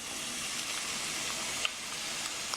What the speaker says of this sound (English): Oh, you can hear that sizzle?